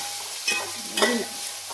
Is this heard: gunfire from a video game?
no